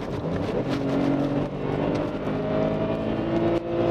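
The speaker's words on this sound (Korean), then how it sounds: "제가 극가속을 한번 해볼게요." A BMW 5 Series accelerates hard on a cold test drive, its engine a loud, steady close-up roar climbing in pitch over about four seconds, with no talk over it.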